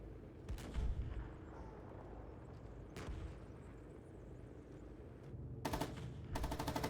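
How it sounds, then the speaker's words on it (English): Tank machine gun fire in a video game, quiet and distant, with a couple of isolated shots early on and two rapid rattling bursts near the end. "machine gun works"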